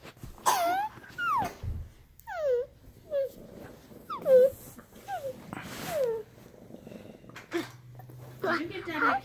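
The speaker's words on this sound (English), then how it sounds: "He kissed the dog who's growling at him" A dog growls and whimpers in short bursts close by, mixed with a person's high, sing-song talking and playful vocal sounds.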